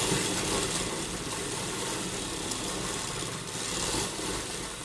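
A sewing machine stitches elastic into a palazzo trouser waistband, a steady even whirring hum running continuously throughout at moderate volume, with no talking.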